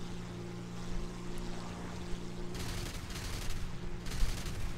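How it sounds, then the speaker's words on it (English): Aircraft cannon and machine gun fire from a Me 410 in War Thunder, bursts of rapid rattling shots over a steady engine drone, the firing coming in two short stretches. "I completely missed those first shots"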